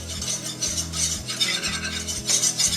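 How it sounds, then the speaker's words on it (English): Three tablespoons each of butter and flour are whisked into a roux in a pan, a soft rhythmic scraping and swishing repeated in quick strokes, close and fairly quiet, with no voices. "So we are going to whisk this."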